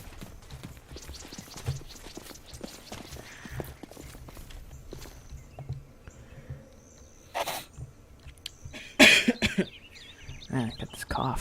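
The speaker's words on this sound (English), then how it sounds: "I got this cough." A couple of short, harsh coughs break through amid clattering, footstep-like knocks and scattered background noise.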